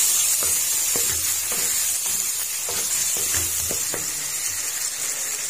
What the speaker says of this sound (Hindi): इस तरह से हमने आलू ऐड कर दिए, इसको भी हमने अच्छी तरह से भूनना